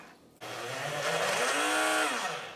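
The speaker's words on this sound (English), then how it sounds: "I don't know how this is gonna do in the blender" A blender starts abruptly and runs loudly and steadily, its motor whine rising and straining in pitch as it churns thick cinnamon roll sugar cookie dough.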